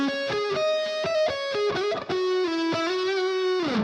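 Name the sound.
electric guitar solo lick, first part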